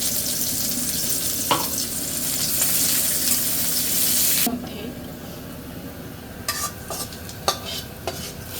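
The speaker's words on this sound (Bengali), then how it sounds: "তেলটা গরম হয়ে গেছে আমি কয়েকটা জিরা দিয়ে নেই" Cumin seeds frying in hot oil in a home kitchen, a loud steady sizzle for the first half that drops to a quieter crackle with a few sharp pops and utensil taps.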